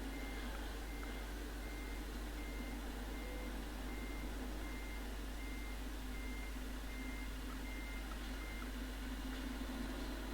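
Intermittent reversing beeps from a truck parking in Euro Truck Simulator 2, a steady repeating tone over a constant engine drone, moderately loud with no talking.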